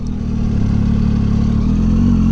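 Triumph Tiger 800 XRT motorcycle engine running steadily while riding, a loud, continuous low rumble with a smooth, even drone and no voices over it.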